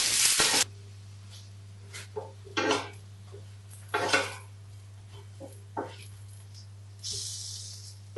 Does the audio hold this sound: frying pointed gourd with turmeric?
yes